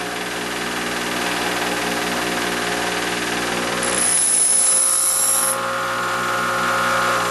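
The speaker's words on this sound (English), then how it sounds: "I match the edge that I'm going to grind with the grinding wheel" A drill bit is sharpened on a grinding wheel: the motor hums steadily and loudly up close, and a brief hiss of grinding contact rises over the hum partway through before it drops back to the plain whirr.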